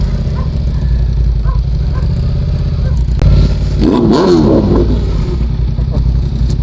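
A BMW F900R motorcycle engine revs up as the bike pulls away in evening traffic, a loud close rise in engine note after a sharp onset midway, over steady low road rumble.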